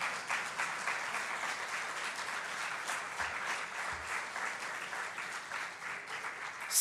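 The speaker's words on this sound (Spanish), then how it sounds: "¿Cuántos dan una ofrenda de palmas a Dios?" A church congregation claps together as an offering of praise to God, a steady dense patter of many hands filling the room throughout, with no talking over it.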